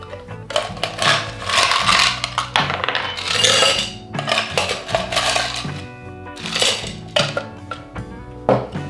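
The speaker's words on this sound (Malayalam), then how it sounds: "നമുക്ക് കുറച്ച് ഐസ് ഇടുക." Ice cubes dropped into a glass while making pineapple ginger beer, a series of sharp clinks and rattles in uneven bursts, close and fairly loud with no talking.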